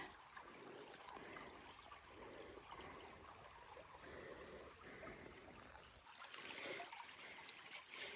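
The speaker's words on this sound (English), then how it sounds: "It sounds so pretty. I love babbling water." Small rocky creek babbling along a forest trail, a steady, soft trickle and gurgle of water over rocks running throughout at moderate distance.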